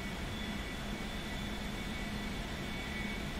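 An aircraft engine throttled back in flight gives a constant, dense roar with a steady hum underneath, unbroken and even throughout, with no voices.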